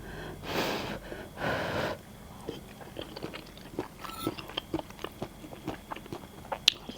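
Someone eats a curry of yellow amanita mushrooms with rice and fermented-fish chili dip, chewing close to the mic. Two loud breathy bursts come first, then a run of soft, crisp crunches and clicks.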